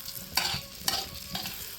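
Eggs mixed with chopped onion and spices fry in oil on a tawa, a close, gentle sizzle punctuated by three quick scraping stirs.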